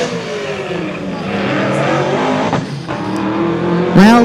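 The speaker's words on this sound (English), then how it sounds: "it's Mustang battle. Old Mustang versus new Mustang." An old and a new Ford Mustang race on a street drag strip, engines roaring loudly as they accelerate away, with a sharp high tire squeal or revving burst near the end.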